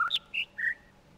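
Birds in the video game The Witness give three clear, bright whistled chirps in quick succession, close and alone, with a brief trailing tone after the last one.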